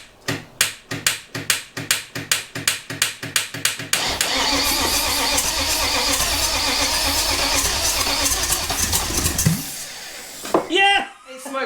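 A TVR Tuscan being powered up for the first time in 20 years, with a rapid rhythmic starter cranking that catches into a rough, loud engine run for several seconds before cutting out, followed by voices.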